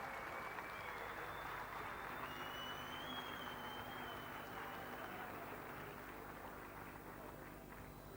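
An audience at a photography competition award ceremony applauds a prizewinner, sustained thick clapping at a steady level with a faint whistling tone drifting over it.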